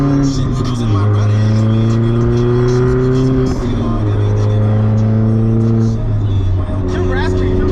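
A VW MK4 GTI 20th Anniversary Edition fitted with a 3-inch catless downpipe exhaust revs loud and raspy, its engine note holding steady and then swelling, while people talk over it.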